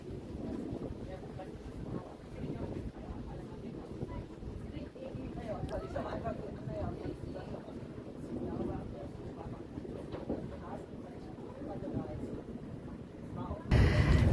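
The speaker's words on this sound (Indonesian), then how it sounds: "kita menaiki kapal feri dengan mobil yang kita" Car ferry crossing a lake near Zurich, Switzerland, with steady rumbling engine and water wash under strong gusting wind buffeting the microphone throughout, loud and continuous.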